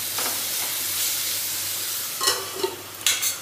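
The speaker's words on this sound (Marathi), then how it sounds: "या कारल्याला आता मध्ये मध्ये फिरवत राहायचं म्हणजे ते खाली लागत नाही." Bitter gourd pieces frying in a pan while being stirred, a soft steady sizzling hiss with a few brief scraping clinks toward the end.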